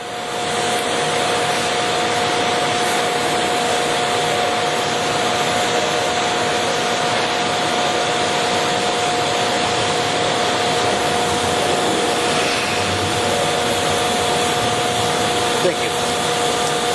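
A 27.5-inch by 144-inch Monarch engine lathe runs with its spindle at 24 RPM, giving a loud, steady mechanical whir and hum with faint tonal lines that holds unchanged from start to finish.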